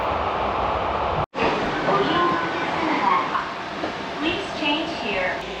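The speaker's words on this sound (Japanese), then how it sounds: "こちらの電車に乗車します。" A Chichibu Railway train at Hanyu station in Saitama gives off a loud, steady rumble with mechanical noise throughout, heard close up with no clear break.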